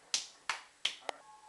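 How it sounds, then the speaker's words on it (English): Four sharp, crisp hand claps ring out one after another in a quiet room, close and clear, the last one shorter and softer than the others. "when I clap my hands two times"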